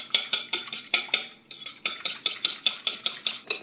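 A fork or whisk beats aquafaba into foam in a bowl, producing fast, regular clinking strokes close up, about four per second with a brief pause midway, and no voices.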